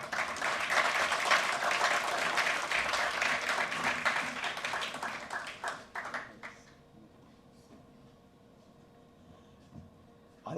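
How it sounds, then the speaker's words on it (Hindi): An audience claps at a theatre award ceremony: dense, loud applause fills the hall for about six seconds, then thins into scattered claps and quiet room tone. "ताली बजा देगा"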